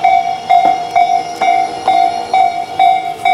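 Tobu Isesaki Line train at a station, with a level crossing bell ringing in a steady repeating rhythm, loud and clear, with no talk.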